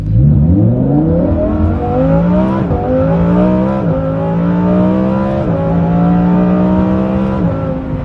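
Lamborghini Huracan Performante on a stock tune with a Kline exhaust system accelerating hard, a loud, close engine note climbing through several gears with sharp dips at each shift, no talk.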